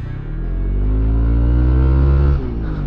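A dual sport motorcycle rides along a gravel road in Nueva Ecija, its engine droning loud and close, rising slightly, then easing off with a shift in pitch near the end, with no talk.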